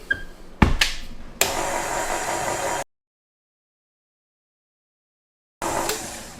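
A machine mixes dough of flour, salt, oil and warm water in a bowl, giving a steady, fairly loud whirring drone after a few knocks. It cuts off abruptly into silence, then the whir starts again.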